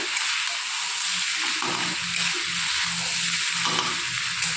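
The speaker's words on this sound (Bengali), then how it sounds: "এবার রাইসটা ভালোভাবে সবজির সাথে মিক্স করে নেব" Leftover cooked rice being stir-fried with vegetables in a pan, a steady continuous sizzle with soft rhythmic scraping and tossing sounds throughout, close and fairly loud, no talking.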